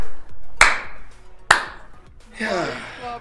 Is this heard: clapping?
yes